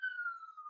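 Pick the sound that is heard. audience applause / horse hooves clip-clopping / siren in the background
siren in the background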